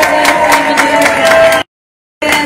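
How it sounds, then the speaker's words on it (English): Hand claps on a podcast, a steady, evenly paced rhythm of claps with crowd-like noise behind them, loud and close, cut by a brief moment of silence before resuming. "can I get some hand claps for entertainment news?"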